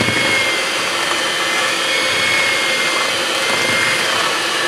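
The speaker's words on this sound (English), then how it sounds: "So I start off on my mixer on low speed." An electric mixer runs on low speed, creaming butter for a sour cream pound cake, giving a loud, steady whirring drone that holds unchanged from start to finish with no talking.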